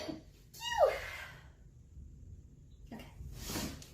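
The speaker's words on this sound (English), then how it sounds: "I burned some sage in here earlier and now I keep sneezing." A woman sneezes once after sage was burned in the room, a sharp close burst with a rising breath, followed by quiet room tone and a softer breathy sound near the end.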